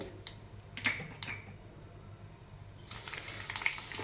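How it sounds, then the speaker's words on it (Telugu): Fenugreek seeds drop into hot oil in a home kitchen and sizzle and crackle, a few light pops up front, then a steadier, louder frying hiss near the end, with no talking. "ఆయిల్ వేడెక్కింది కదా. ఇందులో ఫస్ట్ మెంతులు వేసుకోవాలి"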